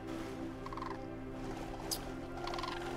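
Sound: birds calling in the video game AER

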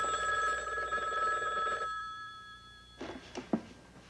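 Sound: telephone ringing

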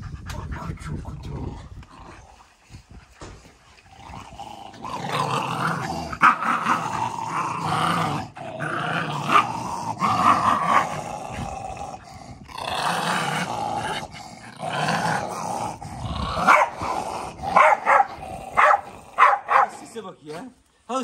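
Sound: dog growling and barking

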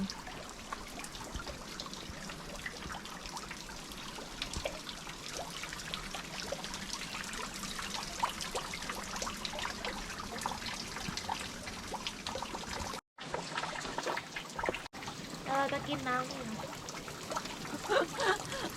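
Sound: small waterfall trickling beside hiking trail, Madeira

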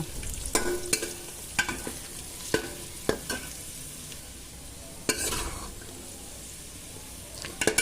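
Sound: cashews and raisins frying in oil

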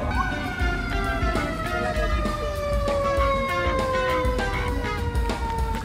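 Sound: fire truck sirens

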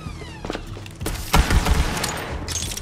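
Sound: pistol gunfire in Borderlands 3 video game

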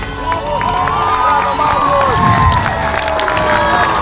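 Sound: audience applause and cheering

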